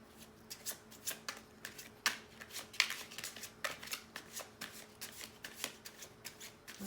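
A deck of slippery tarot cards being shuffled by hand, quick riffling flicks and soft slaps in an irregular rapid rhythm, close and fairly quiet, with no voice.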